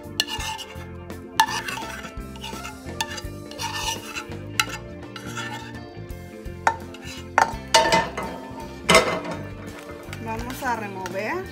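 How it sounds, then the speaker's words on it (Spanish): Stirring flour into potato soup in a pot, with scraping and rubbing strokes of a utensil against the metal and occasional clinks, while someone talks over it throughout. "Vamos a remover para que se incorporen todos los ingredientes"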